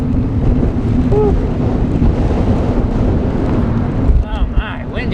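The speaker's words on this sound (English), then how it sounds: "Oh my, windy." Strong wind blasts across the microphone during a bike ride in a loud, continuous low rumble, and a voice briefly speaks near the end.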